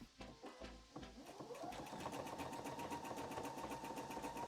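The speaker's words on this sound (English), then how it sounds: "I'm gonna sew around most of the edge and then leave a little opening so that I can fill it." A sewing machine stitches around the edge of fabric for a pet costume, starting with a few short bursts of needle clatter, then running as a steady rapid mechanical whir close by, with no talk.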